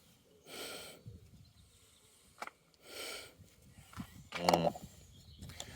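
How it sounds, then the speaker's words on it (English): Two long sniffs close to the microphone at a Vauxhall Corsa B's fuel, separated by a pause, with a few soft clicks and rustles in between. "Let's have a sniff."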